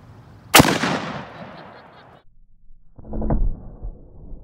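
A 7mm Magnum rifle fires at a can outdoors, giving one sharp, loud crack that rings out and fades over about a second and a half. A softer, duller burst follows a moment later.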